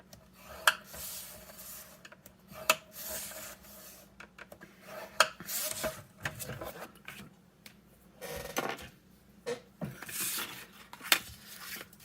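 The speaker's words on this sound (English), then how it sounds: "Scoreboard, cardstock, 3 1/4 by 5 1/4, and we're going to score at 3/4 of an inch on all 3 sides." Scoring tool drawn along cardstock on a scoreboard, making repeated short scraping and rubbing strokes with small clicks, close and fairly quiet, with pauses between the passes.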